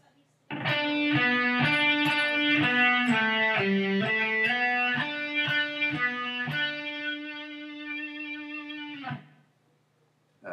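A sustained electric guitar phrase from a song solo with a fuzzy, distorted tone: a run of picked and slid notes ending on a long held note that rings, then cuts off.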